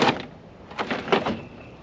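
A plastic interior door panel on a Chevy or GMC truck is lifted and pulled free of its door, giving a few close scraping, rustling bursts with a brief clunk, with no talk over it.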